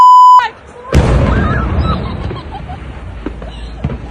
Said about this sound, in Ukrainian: Місцеві знімали на камеру величезне займання та звуки детонації, що лунали протягом певного часу.